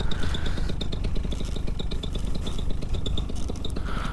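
Moster 185 paramotor engine running rough, a loud, continuous buzzing drone with uneven, sputtering pulses close by, no voices.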